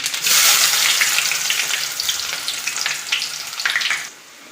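Sliced onion dropped into hot coconut oil with mustard seeds and urad dal, sizzling loudly and steadily for about four seconds with bursts of crackle, then quieting abruptly near the end.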